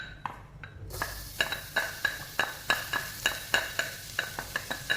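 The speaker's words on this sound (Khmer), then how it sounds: "បន្ទាប់មកយើងធ្វើការបំពងខ្ទឹមរបស់យើងបងប្អូនបាទ" Garlic frying in hot cooking oil for chicken rice porridge: a steady close sizzle with a regular series of sharp scraping taps as it is stirred, with no talking.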